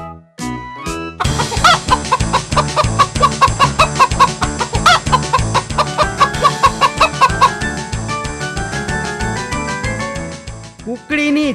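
A hen clucks loudly and close by in a rapid, rhythmic run of repeated throaty calls that carries on steadily for several seconds.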